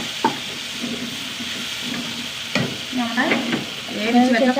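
Curry leaves sizzle and crackle in a hot pan of oil while chilli sambar is being made, a steady close frying hiss that swells toward the end.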